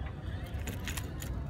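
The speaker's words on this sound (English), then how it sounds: "What about this key?" Keys jangle in a steady, close metallic rattle while being used to pry open a turtle's mouth, with faint voices beneath.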